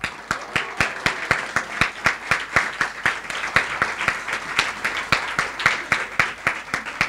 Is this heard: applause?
yes